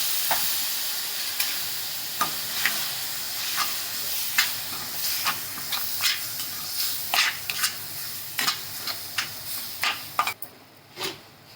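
Cluster beans sizzle loudly in a hot pan while a spatula scrapes and clacks in an irregular stirring rhythm, close and continuous.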